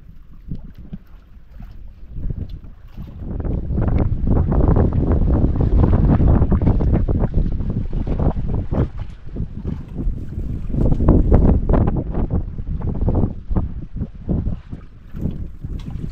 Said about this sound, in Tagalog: Daming bangka mga idol dito sa unahan, no?